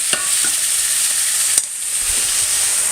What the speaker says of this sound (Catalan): Mentre es fregeixen les salsitxes i el llom